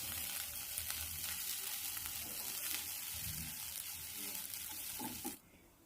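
Freshly grated coconut sizzles and crackles as it is sautéed in a hot pan for rice laddu, with a steady close frying hiss and light stirring scrapes before it cuts off abruptly near the end.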